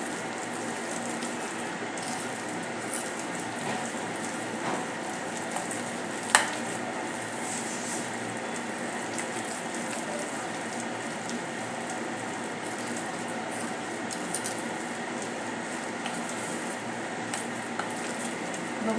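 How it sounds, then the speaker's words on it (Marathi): Spinach bhaji batter with ginger garlic paste is stirred and mixed by hand in a bowl, giving a steady, wet, squelching scrape that runs on continuously with a faint clink partway through. "आता सर्व इन्ग्रेडियंट्स आपण मिक्स करून घेऊया"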